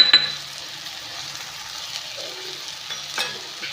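Moth beans roasting in a pan with red chili powder, turmeric and salt are stirred, giving a soft continuous sizzle with light scraping and an occasional clink of the spoon against the pan.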